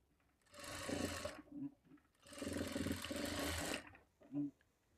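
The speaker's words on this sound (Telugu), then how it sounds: "ఈ విధంగా పట్టుకుంటూ స్టిచ్ చేసుకోవాలి" A sewing machine stitches a blouse in two sustained runs of rapid whirring, each lasting around a second or more, separated by brief pauses, with a short burst near the end; close and fairly quiet.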